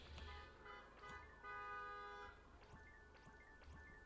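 A car horn honks outside at a turkey in several short toots, distant and muffled behind a noisy room, with a steadier honk in the middle.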